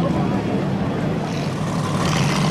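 Bomber-class race cars on a dirt track, a continuous broad roar of engines filling the air, fairly loud and steady, with an announcer talking over it.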